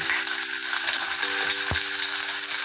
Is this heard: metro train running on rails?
no